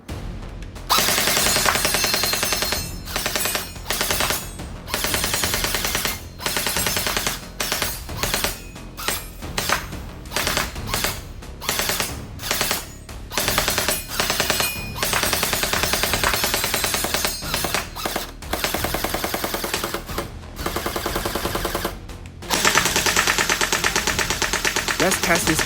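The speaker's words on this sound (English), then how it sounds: "So now as I shoot out the gel ball," A Tec-9 gel blaster toy gun fires gel balls in a rapid string of sharp, close mechanical bursts with short pauses between volleys, loud and continuous for most of the stretch.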